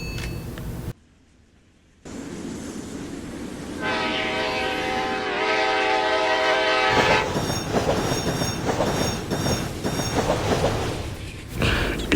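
A runaway NJ Transit train in the Roblox game Rails Unlimited roars along at speed, its horn blaring over rumbling, clattering wheels after a brief near-silent gap, the rolling noise building louder and rougher toward the end.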